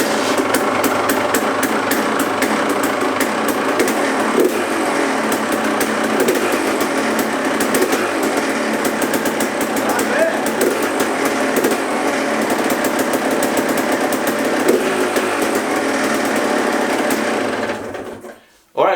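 A KTM 300 two-stroke dirt bike fitted with a Lectron H series carburetor idles steadily and close by, a rapid buzzing putter running unbroken for most of the stretch before cutting off abruptly near the end.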